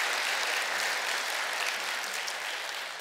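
Congregation applauding in a church, a steady wash of many hands clapping at moderate distance, continuous for a few seconds and fading slightly at the end.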